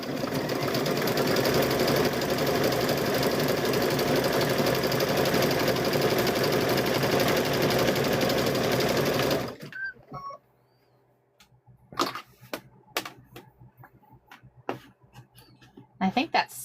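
A sewing machine stitches fabric-wrapped rope for a rope bowl, running loud and continuous for about nine seconds before stopping abruptly, followed by quiet handling clicks and soft talk.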